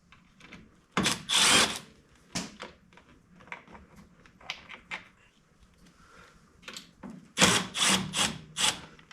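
Screws being removed from the front grill of an Arctic Cat 650 ATV, heard as scattered scraping, clicking and rattling tool sounds in irregular bursts, loudest near the beginning and end.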